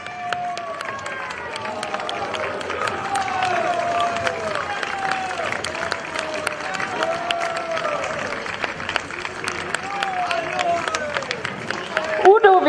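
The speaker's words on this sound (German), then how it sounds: "Und nun begrüßen Sie Udo mit kräftigem Applaus" Applause and cheering rise from a crowd lining a historical festival parade at the Drachenstich in Furth im Wald, greeting the costumed Udo. Scattered clapping runs under an announcer's voice and crowd chatter, growing slightly toward the end.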